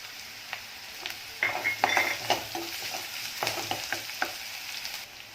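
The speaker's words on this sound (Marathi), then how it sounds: "कांदा फक्त थोडासा मऊसर करायचा आहे जास्त परतून घ्यायचं नाही" Chopped onion and green chili sautéing in a pan, a soft sizzle under a series of close scraping and clinking stirs from a metal spoon against the pan.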